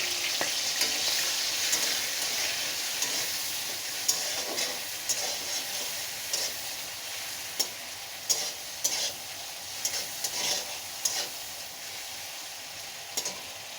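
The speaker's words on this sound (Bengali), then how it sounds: "এই যে লবণ হলুদ দিয়ে দেওয়া চিংড়ি মাছটা আমি এখন একটু ভেজে নেব" Shrimp coated in salt and turmeric sizzles steadily in hot oil for garlic prawns, a constant crackling hiss with sharp pops and light stirring clicks scattered throughout, close and without any talk.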